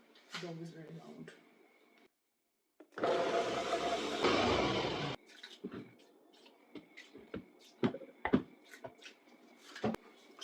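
A Ninja blender run on high slicing okra with a little water makes a loud, dense whir lasting about two seconds, with a brief change partway, framed by quieter clatter and handling noises before and after.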